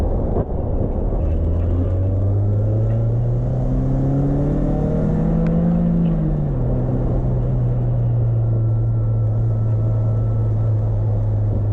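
Heard from the cabin, the MGF VVC's K-series engine revs up in one long smooth climb, its tone rising over several seconds before easing back to a steady drone, loud and close.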